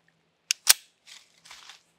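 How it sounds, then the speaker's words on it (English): A Springfield XD Mod 3 pistol gives a quick pair of sharp, cracking reports in fast succession, followed by softer rattling clicks and handling sounds. "let's shoot that target way out there again"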